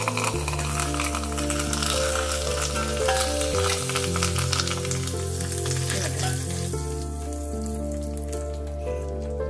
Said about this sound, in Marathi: मस्त कडक फोडणी।